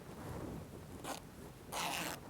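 A dress zipper being run open and then closed during sewing, two short rasping bursts, the second longer and louder, over a low steady room hum.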